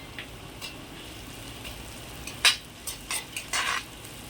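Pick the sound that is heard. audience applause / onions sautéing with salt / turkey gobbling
onions sautéing with salt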